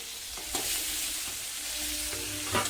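Spices, chopped tomato and sour yogurt frying in oil in a pan while being stirred steadily, a continuous sizzle with a few louder scrapes of the spoon, close and unbroken, no voices.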